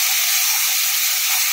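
Ginger and garlic paste frying in a pan over low gas, a loud steady close hiss of sizzling that holds without a break.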